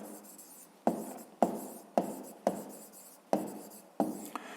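Pen strokes scratch on paper while a fifth-grade math exercise is worked by hand. Six short, fairly close strokes each begin with a sharp attack and then fade, spaced about half a second to a second apart, with no voice.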